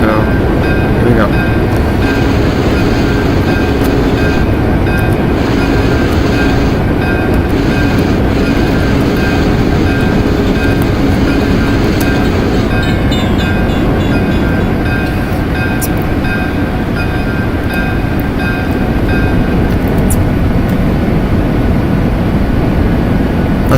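Union Pacific 3985 locomotive in the Open Rails simulator runs over Tehachapi Pass, a loud continuous rolling rumble and clatter that carries steadily throughout, with brief higher tones on top.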